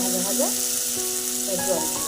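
Spices fry in a hot pan with a steady sizzle, while a voice speaks softly in the background over the continuous crackle.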